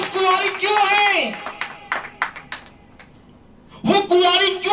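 A church congregation claps in a short, scattered burst of hand claps between stretches of a preacher's loud speech during a sermon.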